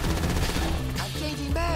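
Dense, continuous gunfire in the video game GTA 5, with loud bursts of shots layered over game music and effects and no pause between them.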